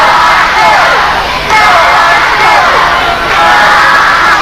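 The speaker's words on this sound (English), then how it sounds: "the crowd jumping up with enthusiasm here, trying to help Iceman out of his predicament" A 1985 pro wrestling arena crowd roars and cheers enthusiastically in loud, sustained waves with shouts and whoops, swelling and dipping a few times with no clear talk.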